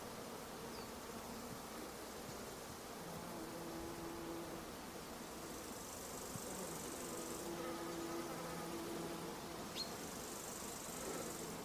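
Continuous buzzing of flies hums steadily throughout, with a couple of brief higher whines passing close by over a faint background hiss.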